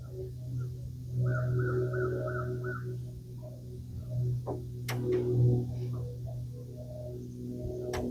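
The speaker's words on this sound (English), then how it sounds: "There's thousands of birds over there." Birds call in a series of short repeated caws over a fishing spot on the water, moderately distant, with a low steady motor-like hum and a few sharp knocks and clicks nearby.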